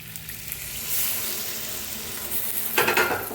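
Stuffed capsicum sizzling in a pan with masala, salt and a little water, a steady close frying hiss that swells slightly, ending in a few quick scraping stirs.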